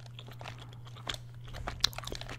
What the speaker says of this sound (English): If any of you like listen and chew your own bubblegum while you're listening